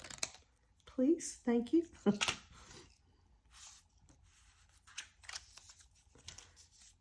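An old library catalog card being trimmed with scissors, a few quick crisp snips close by, with a voice speaking briefly between the cuts.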